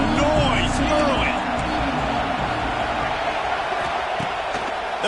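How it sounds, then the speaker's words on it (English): Stadium crowd noise from an NCAA college football video game, a steady loud roar of cheering fans throughout with announcer commentary layered over it. "This crowd bringing the energy and noise early."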